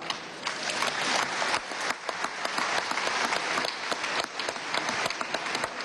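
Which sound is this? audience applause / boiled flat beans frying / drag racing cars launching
audience applause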